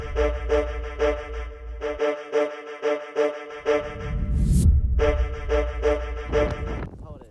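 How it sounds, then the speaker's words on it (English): Strong wind gusts roar outdoors in a rumbling surge that swells mid-clip, beneath a loud, steady, droning horn-like tone that stops and restarts. "You can hear the wind on the outside."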